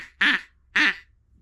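A duck call blown badly by a beginner gives two loud, harsh, nasal quacks in close succession, each short and buzzy, with near silence around them.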